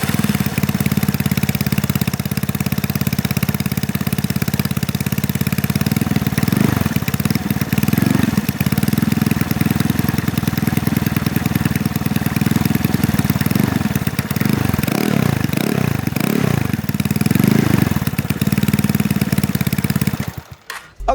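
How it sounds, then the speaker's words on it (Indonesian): A custom Vespa scooter fitted with a chrome Remus exhaust idles close by, a steady, loud low-pitched burble with slight swells in revs, running continuously for about twenty seconds before cutting off abruptly at the end. "jadi itu dia tadi suara knalpot Remus ini"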